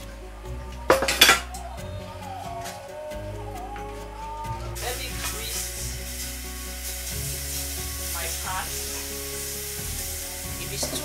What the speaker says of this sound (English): I prefer to have this so that I can be able to saute it